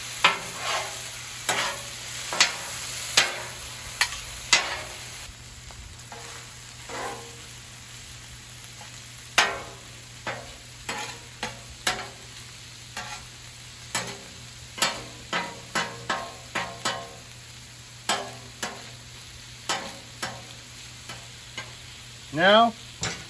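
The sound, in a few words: cheesesteak meat and veggies frying on a Blackstone griddle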